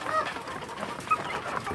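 Free-range village chickens cluck softly in a group while feeding on ground corn and pellets, scattered short clucks and murmurs close by with faint farmyard background.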